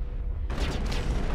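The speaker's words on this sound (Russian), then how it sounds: "там снайпер в меня стрельнул" A sniper rifle shot rings out in the sci-fi shooter Mass Effect, a sharp broadband crack after a brief low rumble, followed by a dense decaying burst of gunfire and booms from a nearby firefight.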